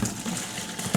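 Clean water gushes into an empty bucket in one continuous, close pour, brief and unaccompanied.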